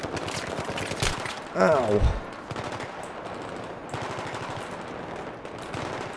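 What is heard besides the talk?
machine gun fire in the video game Battlefield 3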